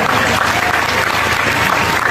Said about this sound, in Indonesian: Tepuk tangan untuk santri-santri semuanya.